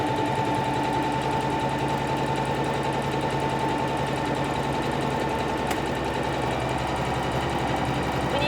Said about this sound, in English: You're just going to push the pedal down and kind of very gently guide the fabric, but the machine is going to make a whole buttonhole.